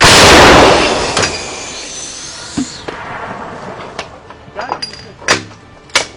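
A heavy howitzer blast booms at the start and fades out. Scattered sharp clicks and knocks follow, and faint voices are heard in the background.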